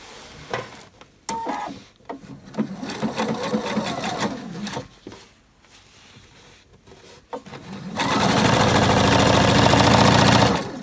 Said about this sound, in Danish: så skal jeg sy hele vejen rundt